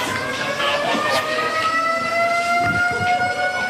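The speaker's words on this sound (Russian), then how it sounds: "Пожарная сигнализация сработала только с третьей попытки." A building fire alarm that triggered only on the third attempt sounds loudly with steady, continuous electronic siren tones, alone and close, under a little background noise.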